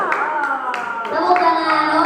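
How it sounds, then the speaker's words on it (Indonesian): At a school student council debate, an audience of students claps in a quick, uneven patter for a candidate, mixed with loud young voices calling out together close by. "Tepuk tangan untuk kandidat nomor 1"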